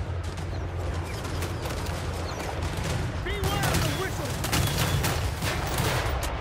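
Massed gunfire pounds the castle walls of Brass Keep in Total War Warhammer 3, with rapid, overlapping volleys and cracks crowding together over battle noise and faint voices.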